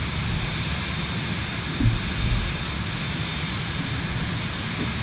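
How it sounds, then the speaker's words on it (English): A Norden Savage light plane in Microsoft Flight Simulator 2024 drones with a steady, broadband engine roar that stays constant throughout, loud and close, with only a brief faint bump in the middle. "The Norden Savage plane."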